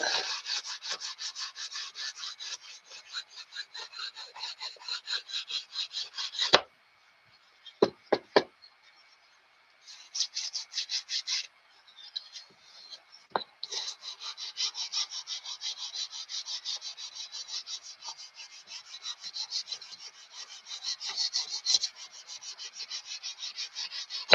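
Wood being sanded by hand with a long, fine-grit sanding stick while building a model airplane kit: long runs of fast, rhythmic rasping strokes, close and clear, broken by brief pauses and a few knocks.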